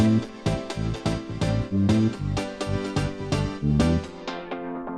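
A thick bass groove of stacked bass layers with punchy rhythmic notes repeating in a steady pattern within a full electronic mix, loud with no voices.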